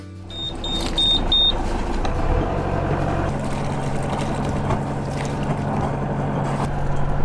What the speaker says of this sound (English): So just started the engine, first time in a long time actually, but started first time